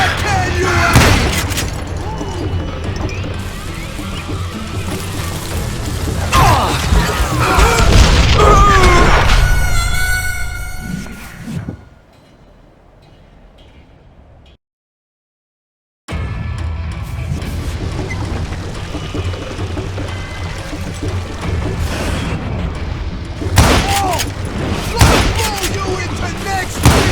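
Gunshots and heavy booming blasts in the Western shooter Call of Juarez: Gunslinger, loud sharp cracks over a dense action mix, cut by a stretch of near-silence before the firing resumes, with voices speaking.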